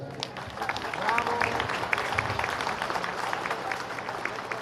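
Audience applause at a talk marking a 500-year Dominican mission anniversary in Zinacantán, a steady wash of clapping from a crowd held at moderate level throughout, with scattered sharper claps and some voices mixed in.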